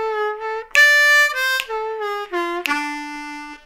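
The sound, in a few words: blues harmonica lick with draw bends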